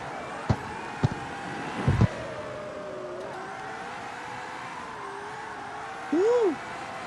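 Toyota AE86 in the street-racing game CarX Street, its engine holding a steady droning note with a short rising-and-falling rev near the end, a few sharp knocks early on, and no talk over it.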